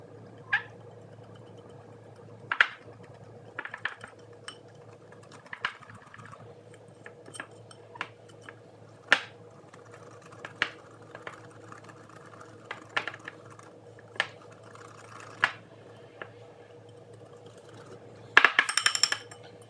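Egg whites and milk being mixed for protein pancakes, a steady series of light clicks and taps from a utensil against a bowl at close range, with a brief busier clatter near the end.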